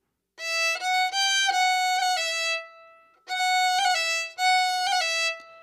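A bowed fiddle plays short Scottish fiddle phrases with quick ornamental turns, bright and close, pausing briefly before two more ornamented bursts.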